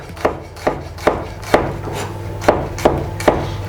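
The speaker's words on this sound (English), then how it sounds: "I'm just gonna slice it finely, but if you want, you could also mince the garlic" A knife slicing garlic finely on a wooden cutting board, seven crisp, evenly spaced taps close up, each one a short sharp knock with a light rub between strokes.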